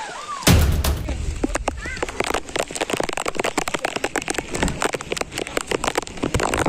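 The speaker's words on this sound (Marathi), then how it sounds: "आम्ही भर पावसात गड चढतोय" Heavy monsoon rain pours down in a dense, steady patter while climbing Karnala Fort, with a sharp burst near the start and voices faintly underneath.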